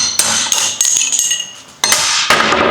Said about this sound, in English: So first we're going to punch out the seal and the rear bearing